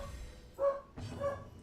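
Two short barks from a dog indoors, a quick pair spaced about half a second apart, fairly faint and heard alone without talk.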